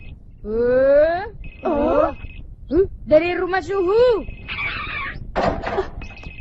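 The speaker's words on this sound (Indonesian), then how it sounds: "Suara itu jangan-jangan handphone." A cartoon mobile phone rings with a thin, repeating electronic tone that sounds in short bursts beneath animated voices talking and exclaiming.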